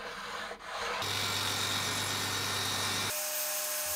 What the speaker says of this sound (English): Trimming an off-cut piece to size